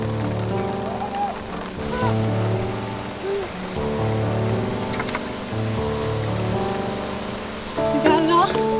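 Heavy rain pours down on a tiny dome house build site, a steady dense hiss running the whole time beneath voices and tonal background sound.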